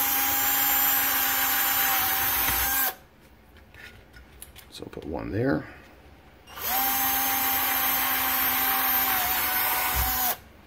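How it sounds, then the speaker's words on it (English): A power drill bores holes into a plastic GoPro camera housing: two long, steady whining bursts close to the mic, separated by a quiet pause in which a person speaks briefly. "you want to drill where you marked to open that up"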